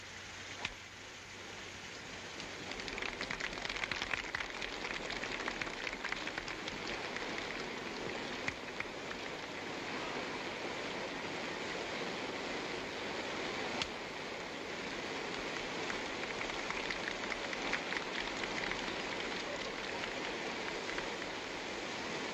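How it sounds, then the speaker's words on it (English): Rain falling steadily on a golf course in a 1951 film about Ben Hogan, a soft, even hiss of drops that swells slightly after the start and continues alone at low volume. "And then it began to rain."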